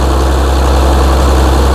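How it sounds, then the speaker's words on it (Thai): A Hino JO7C six-cylinder diesel engine drives a large water pump, a loud, steady, deep idling drone with constant vibration and no pauses, heard close up. "ใช้เครื่องยนต์ของ Hino"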